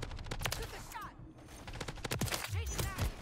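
Gunfire crackles in Call of Duty Modern Warfare 3 multiplayer, with rapid sharp shots in clustered bursts, a short lull, then more close, loud firing and game effects.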